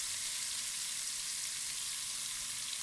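A teaspoon of cumin seeds sizzles in ghee, making a quiet, even, hissing crackle that holds steady without a break, with no talking.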